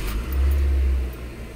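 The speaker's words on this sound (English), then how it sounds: "we're gonna start it up from dead cold and watch how this all reacts" A Suzuki Swift engine, with a suspected catalyst-efficiency fault, cranks from dead cold and catches, a loud low rumble that swells then settles toward idle, with a brief jangle of keys near the start.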